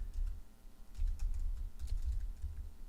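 Keys clatter on a computer keyboard while text is edited, a quick, fairly quiet stream of soft taps over a low background hum, with no talking.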